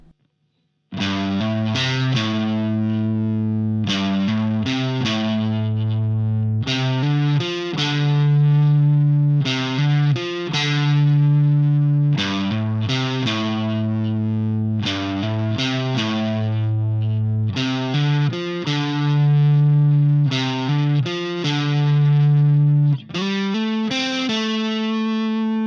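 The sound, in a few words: electric guitar riff with distortion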